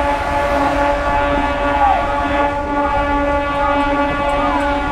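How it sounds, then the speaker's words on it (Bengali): A packed inaugural train on the Bankura–Masagram line rolls into a station, with loud continuous rumbling and steady sustained horn-like tones that hold without a break. "শ্বাসপুর রোড ঢুকছে ট্রেন, আর ভিড় দেখুন"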